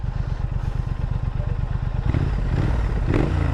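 A 2017 Triumph Thruxton R idles with a close, rhythmic throbbing pulse, then its engine note thickens and rises into a steadier, louder rev.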